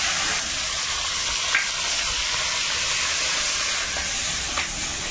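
Nigella seeds, chopped green chili and garlic sizzle in hot oil in a kadai. The loud, steady hiss continues throughout, with a couple of brief sharper crackles and no speech.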